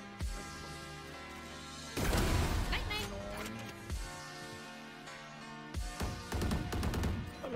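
Gunfire in the Valorant game: loud, dense bursts of shots with impacts arrive in several waves over continuous talk and game music.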